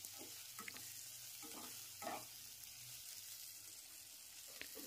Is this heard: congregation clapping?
no